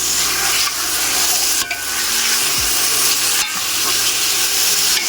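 Meat sautéing in a hot pan for Filipino sinigang is stirred, giving a loud, steady frying sizzle with a few scraping stir strokes throughout and no voices.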